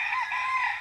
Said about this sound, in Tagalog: Manang makita mo maraming manok, oh.